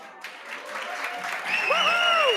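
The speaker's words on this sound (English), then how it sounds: "We need applause." A short burst of applause from a small group, building steadily over a couple of seconds with a few whistles rising near the end.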